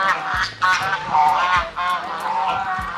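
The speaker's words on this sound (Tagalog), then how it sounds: "Meron din tayong gangsa rito." Geese on a rabbit farm honk repeatedly and loudly at close range, a rapid overlapping series of nasal calls with no pause.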